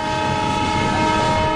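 A train at a Mumbai railway station sounds loudly and continuously, with a sustained horn tone over the rumble and rattle of railway cars.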